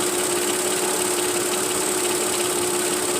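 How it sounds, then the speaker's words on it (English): Engine running at a steady idle with a spark plug misfire, a loud continuous mechanical drone with a fixed whine and no clear breaks. "Yeah, that does not look right to me, so I'm guessing there's our misfire."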